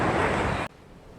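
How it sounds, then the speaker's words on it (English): Surf from the Arabian Sea breaking on the shore at Benaulim beach in Goa, a loud, dense roar of crashing waves that cuts off abruptly partway through, leaving only faint background noise. "The mighty roar of the Arabian Sea as it crashes against the shores of Goa."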